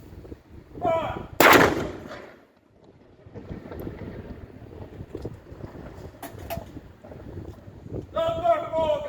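A saluting gun in Guernsey fires a single loud, close blast with a short rumbling tail, set among shouted commands and wind noise.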